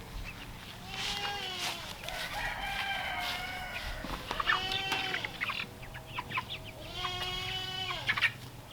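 Meat chickens clucking and squawking inside a chicken tractor as it is moved for the first time, with repeated rising calls and crow-like cries coming close and fairly loud over a steady rustling background.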